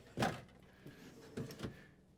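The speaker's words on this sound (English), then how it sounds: "Let's pull these guys open. So nice big deep drawers here." Big, deep soft-closing drawers in a 2026 Newmar Bay Star 3225 gas RV are pulled open, giving a couple of quiet sliding thumps and rolling slides, faint and close, with no talk.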